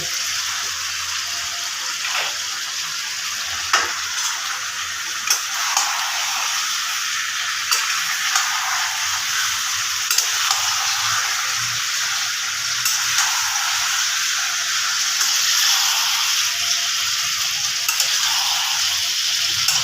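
Chicken cooked to taste like goat meat is stir-fried in a pan over a raised gas flame, a loud continuous sizzle with recurring spatula scrapes and taps at irregular intervals, close and with no voices.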